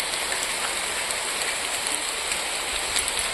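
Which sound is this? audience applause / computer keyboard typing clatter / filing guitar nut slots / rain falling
rain falling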